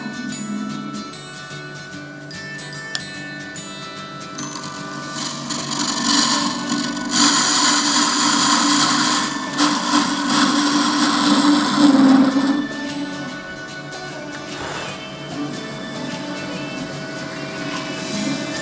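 A new carbide tool shaves a resin blank spinning on a lathe for a shaving brush handle, a close, continuous scraping whir that swells louder and rougher midway before easing off.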